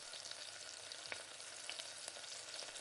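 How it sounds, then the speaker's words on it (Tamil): Dried red chillies and curry leaves sizzling in hot oil with mustard seeds, a dense, even crackling hiss that stays fairly quiet and continuous, with a few faint pops. "இப்போ வரமிளகா இது கூட சேர்த்துட்டு கருவேப்பிலை கொஞ்சமாக சேர்த்துக்கிட்டேன்"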